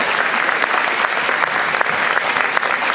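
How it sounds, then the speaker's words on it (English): Audience applause fills a school auditorium at a 2022 high school winter band concert, a dense, steady clapping from a large crowd that stays loud and even from start to finish, with no talking over it. "go ahead and give them a round of applause."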